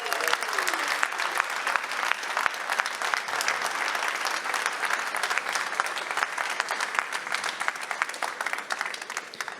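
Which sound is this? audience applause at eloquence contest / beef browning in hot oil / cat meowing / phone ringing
audience applause at eloquence contest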